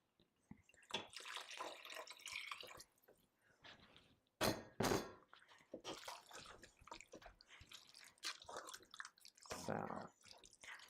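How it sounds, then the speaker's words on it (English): Water is poured into a sloppy joe mixture in a pan, with splashy pouring bursts, some clinks of the utensil and container, and intermittent stirring sounds. "And then we'll add our 2 cups of water."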